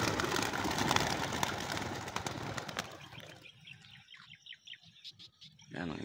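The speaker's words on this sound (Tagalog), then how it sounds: "Ayan ang ibon natin." Racing pigeons bursting from a training box on their first toss: a loud flurry of flapping wings fills the opening seconds, followed by scattered chirps and coos as the birds settle, with a closer rustle at the end.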